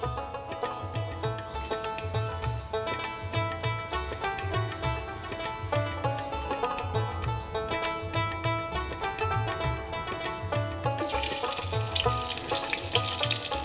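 Onions and green chillies frying in hot oil give a sizzle that sits beneath prominent music with a steady rhythmic beat, the crackle brightening and hissing louder near the end.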